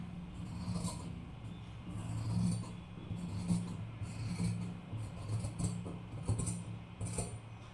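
Scissors cutting blouse sleeve fabric, a close series of soft rasping snips and rubbing strokes of blade on cloth, fairly quiet and irregular, with a low steady hum behind.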